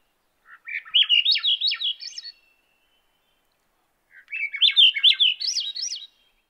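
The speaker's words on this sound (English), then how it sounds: "Their song is characterized by an upward rising melody, which almost sounds like a weird flute." Songbird song with an upward-rising, flute-like melody, heard in two clear phrases separated by a short pause, close and loud in quiet surroundings.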